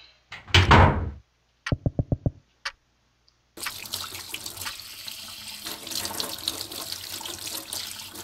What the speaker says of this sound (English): Drip, drip, drippings.